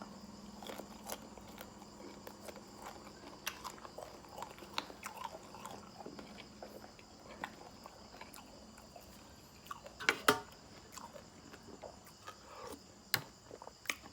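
Crispy fried giant water bugs being bitten and chewed near the mic, with irregular crunchy bites and sharper cracks around the middle of the clip, over a steady faint insect-like background hum.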